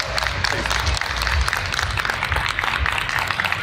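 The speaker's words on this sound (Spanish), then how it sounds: "Un fuerte aplauso, por favor." Audience applause at a Star Wars toy convention talk, sustained dense clapping from a crowd with some voices mixed in.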